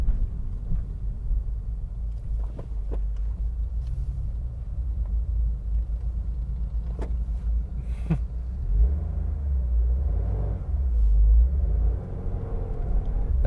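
A Subaru WRX STI rumbles past outdoors, a deep low engine drone that swells and fades over several seconds with no talk.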